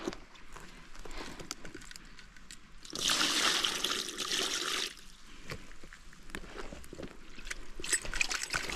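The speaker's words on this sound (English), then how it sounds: "Let's rinse our cooler a little bit too." A cooler rinsed out with water beside a trout stream, trickling and splashing with a louder burst of running water in the middle, fairly quiet overall.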